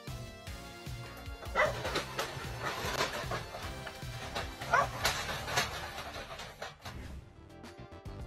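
Small puppies guarding their home yip and bark in a busy, overlapping burst, with whimpers mixed among the quick, close barks throughout.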